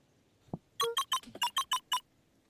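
Keypad tones from entering a password in the video game Beacon Pines: one soft low tap, then a quick run of about eight bright, evenly spaced electronic beeps, clear and close with no talking.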